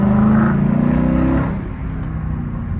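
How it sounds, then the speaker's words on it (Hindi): A Ford Mustang's exhaust swells in a loud, close rev that drops off after about a second and a half into a lower, steady idle rumble. "गाइस अभी हम लोग एग्जॉस्ट सुनाने वाले"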